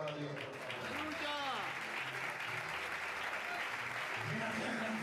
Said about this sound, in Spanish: ¿Cuál es el aplauso para Dios?